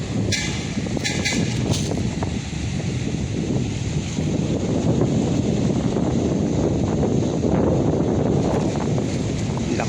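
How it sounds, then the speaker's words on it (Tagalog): Strong wind roars steadily throughout at Manila Bay Dolomite Beach, a dense, loud rush buffeting the microphone with no pauses. "Lakas na ng hangin, oh."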